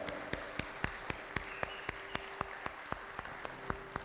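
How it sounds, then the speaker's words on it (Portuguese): A church congregation at a Christmas celebration claps for visitors, sparse individual claps landing in a steady, fairly even rhythm over a soft room background, with no voices. "Uma salva de palmas para os nossos visitantes."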